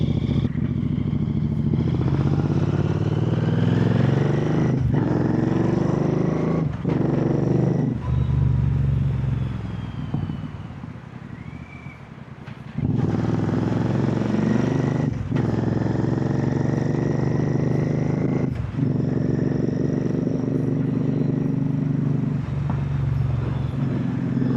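Steady engine drone of a Royal Enfield Super Meteor 650 motorcycle being ridden on hot Delhi roads, with shifting revs, brief dips and rises in throttle and road rumble throughout, heard close from the rider's position.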